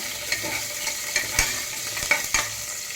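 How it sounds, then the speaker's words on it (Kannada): Garlic and four green chillies frying in a pan for tomato saaru, with a steady close sizzle and occasional light clicks of a stirring spoon. "ನಾನು ಬೆಳ್ಳುಳ್ಳಿ ಹಾಕಿದ್ದೀನಿ ನಾಲ್ಕು ಹಸಿರು ಮೆಣಸಿನ್ಕಾಯಿ ಹಾಕಿದ್ದೀನಿ"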